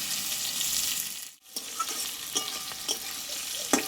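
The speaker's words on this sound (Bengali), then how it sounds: "দেখো বন্ধুরা পটলটা কিন্তু প্রায় আমার ভাজা হয়ে গেছে" Slices of pointed gourd (potol) fry in a pan with a continuous bright sizzle, briefly dipping before resuming, with scattered scrapes and clicks from stirring and no voices.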